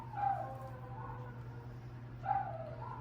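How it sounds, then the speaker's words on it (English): Puppies bark at the door indoors: two short, fairly faint yips about two seconds apart over a steady low electrical hum. "You have to excuse my puppies for a minute."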